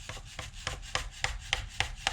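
A rubber hammer knocks at a front quarter light window on a Jaguar MKII car, about eight dull, evenly spaced thuds in a steady rhythm, close by.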